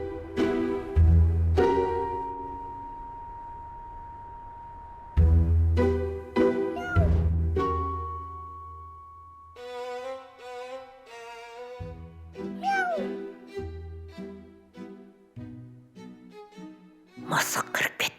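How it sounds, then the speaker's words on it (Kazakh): A cat meows several times in a scene from a Kazakh drama series, its rising and falling cries fairly close and mixed with other voices and sounds. "Мысық кіріп кеткен бе?"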